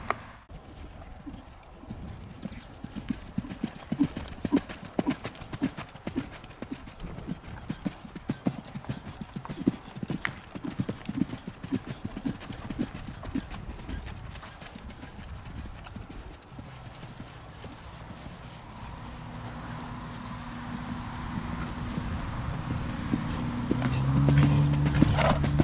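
A show-jumping horse changing tempo makes steady clip-clop hoofbeats throughout, loud and close, their rhythm shifting as the pace changes, with an occasional faint whinny and a steady hum rising toward the end.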